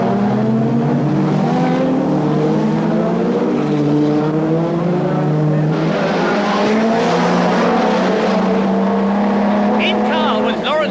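British Touring Cars roar past together at the 1989 Birmingham Superprix street race, loud engines droning and shifting pitch as the pack completes a lap, with a commentator talking over the noise.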